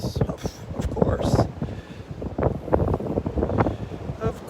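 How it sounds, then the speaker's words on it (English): Wind gusting across a beach walk at Delnor-Wiggins, buffeting the microphone in rough, fluctuating rushes while a person talks over it. "The wind's just blowing them around there."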